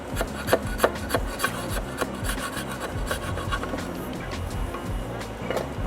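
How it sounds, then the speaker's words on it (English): A scraper rasps gasket material off an aluminum cam cover during an oil-leak repair, a steady close-up grinding scrape with rapid, repeated strokes and no pauses. "let's grab a little bit more aggressive of a scraper. Hit it with velocity"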